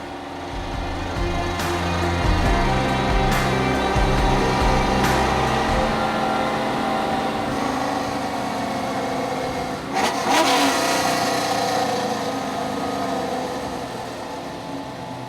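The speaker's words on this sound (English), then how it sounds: "I'm driving a 60s muscle car." A powerful V8-style 1960s Mustang muscle car engine rumbles and revs steadily up close, with a brief sharper burst of throttle near the end.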